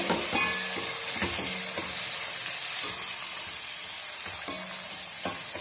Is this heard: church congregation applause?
no